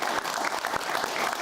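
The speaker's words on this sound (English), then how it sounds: "a big round of applause, please, for Stephen Silverman" A studio audience breaks into a steady round of applause for a guest on a talk show, dense clapping filling the room without pause for a short burst.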